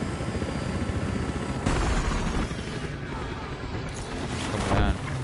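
Helicopter rotor drone in the Battlefield Hardline video game, a loud continuous throbbing wash of noise with bursts of gunfire and explosions layered over it.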